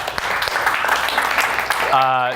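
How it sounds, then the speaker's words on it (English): Brief applause from the audience at a pitch deck workshop in Charlotte, a short burst of scattered claps mixed with voices that gives way to someone speaking near the end. "Round of applause for that."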